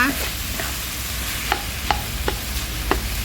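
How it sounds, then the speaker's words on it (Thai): Minced pork stir-fried in a pan, a bright sizzle broken by five or six sharp scraping strokes of a spatula, close and fairly loud with no talking. "ผัดให้หมูสุกเลยค่ะ"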